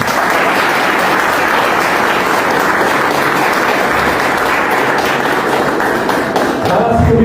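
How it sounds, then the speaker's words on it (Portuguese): A church congregation applauds for Jesus with dense, continuous clapping that fills the room at full volume and holds steady to the end. "dar uma linda salva de palmas para Jesus?"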